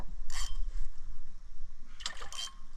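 A fishing reel in the Florida Keys with its drag set light gives short bursts of buzzing clicks as a fish pulls line, heard over wind and boat noise outdoors.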